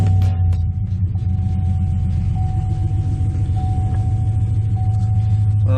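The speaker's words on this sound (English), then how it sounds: "I'll go ahead and start the truck for you guys." A truck engine catches with a brief burst at the start, then settles into a steady, deep idling rumble heard close by for several seconds, with no talk over it.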